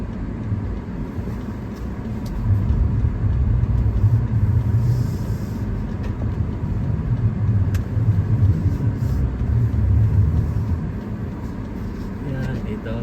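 A car being parked, with a steady low engine and road rumble swelling and easing over several seconds, voices talking faintly over it.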